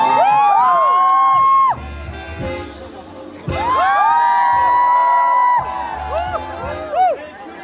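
A concert audience in Seoul cheers and whoops loudly in two long swelling bursts, with shrill individual yells rising above the roar and a brief lull between them.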